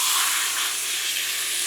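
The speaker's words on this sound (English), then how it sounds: "You can hear that sear." Meat sears loudly in an Instant Pot pressure cooker, a steady close hiss and sizzle that holds without a break.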